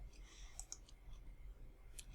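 A computer mouse being clicked: a quick double click sounds early, followed by a single sharp click a little later, all faint and close against a quiet background hum.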